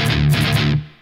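Two quick triplet strums on a distorted electric guitar, part of a song, form a loud, brief, close burst that cuts off into fading ring.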